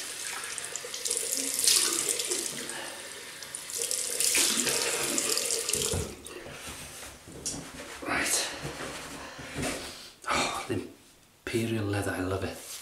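Tap water runs into a bathroom sink to wet the face before a shave, a steady close splashing stream that stops and starts, with someone talking over it.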